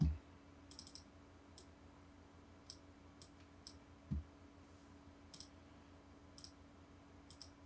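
Keyboard typing and mouse clicking while drafting in AutoCAD: sparse, crisp individual clicks and key taps at irregular intervals, quiet and close, with no talking.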